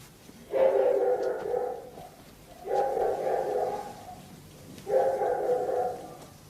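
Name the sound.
dog barking at night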